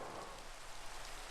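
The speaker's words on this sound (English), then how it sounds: "It's raining." Rain falls in a video game after a weather rod is used, a faint, steady hiss of rainfall with soft pattering and no voices.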